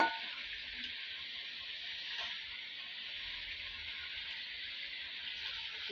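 Country chicken meat sizzles steadily in a hot pan after going in, a continuous broad frying hiss with a brief sharper burst at the start and no talk.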